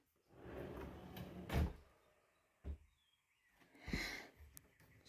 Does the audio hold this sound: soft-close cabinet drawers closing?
yes